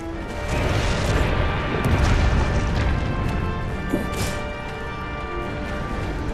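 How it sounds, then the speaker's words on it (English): Cannon fire booms against the colossal monster Zorah Magdaros in Monster Hunter World, a heavy blast followed by crashing impacts and rumbling battle noise, with a voice briefly heard. "Move to the next station and keep hammering Zorah Magdaros with cannon fire"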